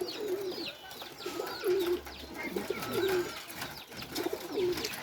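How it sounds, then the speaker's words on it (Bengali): Pigeons on a farm coo repeatedly in soft, rolling phrases close by, with other bird chirps scattered faintly in the background and no voices. "কবুতরগুলো খুবই অ্যাক্টিভ দেখেন"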